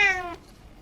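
A single short cat meow, clear and close, fading quickly into quiet room tone.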